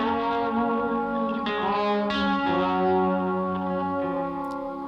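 Molyneux fretless guitar layered with a Josh Williams Mockingbird through a Broadcast pedal into a Magic amp, sustained distorted chords ringing together with effects and echo, steady and loud without a break.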